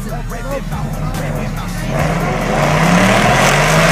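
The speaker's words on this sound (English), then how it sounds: "Let's see if uh, the fastest qualified car can hold off Keith Elkins and advance to round number two" Shelby GT500 drag cars from 2011 SVTPP racing build engine noise that swells and grows louder toward the end, with a steady rising tone under continuous commentary.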